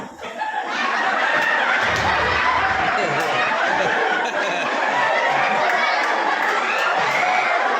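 A crowd at a gathering claps and cheers loudly and continuously, a dense wash of hands, whoops and laughter with voices mixed in throughout.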